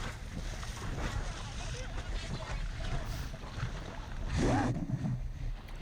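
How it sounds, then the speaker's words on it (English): Wind rushes steadily past a Laser dinghy under sail, a broad blustery roar with water sloshing beneath and a stronger gust near the end; a voice speaks faintly. "Wind's picking up"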